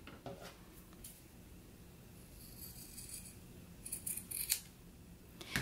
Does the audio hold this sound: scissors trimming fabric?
yes